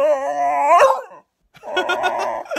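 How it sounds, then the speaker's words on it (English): A beagle howls in two long, drawn-out cries separated by a short pause, loud and close, with no talking over it. "When I talk like Arnold Schwarzenegger, it makes you howl."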